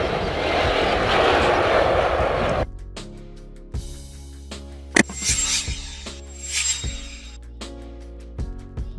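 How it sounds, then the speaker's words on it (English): Cargo jet aircraft roar, a loud broad engine rush for under three seconds that cuts off abruptly, followed by quiet music with soft thumps. "A large aircraft designed for carrying freight or cargo over long distances."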